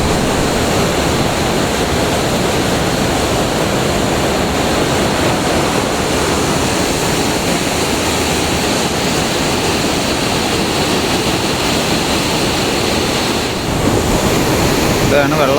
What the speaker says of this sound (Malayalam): ഡാമിൻ്റെ ഷട്ടർ തുറന്നു വിടുന്ന സൗണ്ടാണ് കേൾക്കുന്നത്.